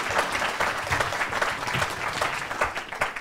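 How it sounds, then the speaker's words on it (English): A live audience at a candidates' forum applauds steadily, a dense, fairly loud wash of many hands clapping throughout with no speech over it. "So just a round of applause for our candidates here."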